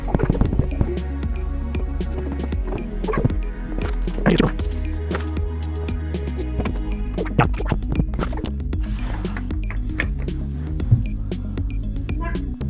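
Motor oil glugging and splashing as it is poured into the engine of a Polaris Ranger 1000 utility vehicle, a close, continuous liquid pour broken by clinks and scrapes, with someone talking over it.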